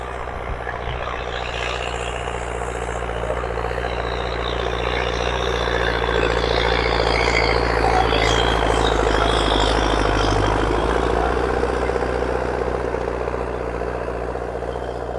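A tractor pulling a cultivator through weeds drones steadily at close range, a continuous low rumble with mechanical rattling that stays constant throughout.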